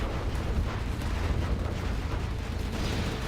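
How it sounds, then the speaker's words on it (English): Scud launcher missiles strike Overlord tanks in the strategy game C&C Generals Zero Hour, a dense, continuous roar of overlapping explosions and rumbling blasts at steady loudness. "Scud launchers hitting the overlords."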